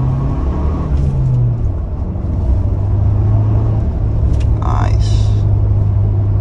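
A 2022 Ford Bronco Badlands with manual clutch accelerating in second gear, heard from inside as a loud steady low engine rumble whose pitch rises slightly, with someone talking over it.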